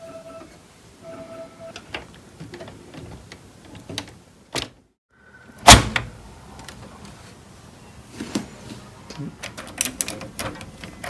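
A graphics card for a gaming PC build with an RTX 3070 gets handled and pushed into a PCIe slot, giving close plastic and metal clicks, scrapes and one loud snap partway through, with faint background noise between.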